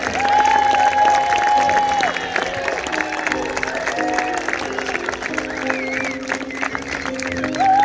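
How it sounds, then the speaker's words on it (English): Audience at a children's theatre show in Nibley applauds a sheep act on stage, with steady, loud clapping mixed with cheering and shouting voices throughout. "Can everybody give a big round of applause for our sheep?"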